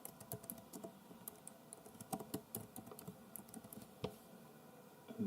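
Quick, uneven clatter of keys on a computer keyboard, close and fairly quiet, with bursts of rapid strokes and short pauses, no talking.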